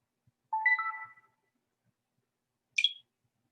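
A mobile phone alert sounds indoors: a brief cluster of bright electronic chimes, then a short sharp beep a couple of seconds later, clear and alone against silence.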